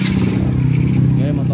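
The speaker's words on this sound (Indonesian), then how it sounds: "sekarang kita nyalain dulu motornya, kunci kontak on. Kita double starter" Electric starter cranking a motorcycle engine, a short steady whirring churn lasting under two seconds, close and loud.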